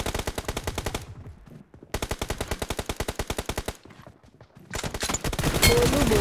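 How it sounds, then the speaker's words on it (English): Rapid automatic gunfire in a battle royale shooter aimed at the player, loud sustained bursts broken by short pauses, then a dense continuous volley near the end, with faint talk in the background. "How many people are shooting at me now?"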